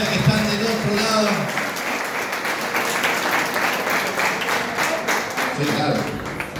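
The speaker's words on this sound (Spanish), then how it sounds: "Quiero brindarle un fuerte aplauso para toda la gente de la cocina" An audience at a gala dinner breaks into sustained applause for the kitchen staff, many hands clapping in a dense, even wash, with a voice speaking over it at the start and near the end.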